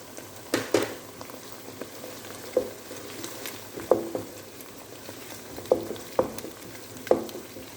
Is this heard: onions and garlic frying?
yes